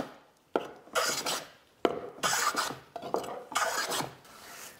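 A No. 62 hand plane takes coarse shavings from wood, adjusting for cross grain; three long rasping strokes, each a sweeping burst with short pauses between, close and fairly loud with no talking.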